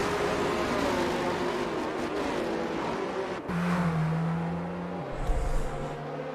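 Race cars in a Japanese GP sim-racing event, including a Ferrari and an Aston Martin, roar as they accelerate on a restart, with a steady loud engine drone and a lower engine note shifting partway through.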